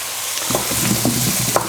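Madras paste and vegetables frying in a pot as they are stirred, a close, steady sizzle with several short scraping stirs and no voices.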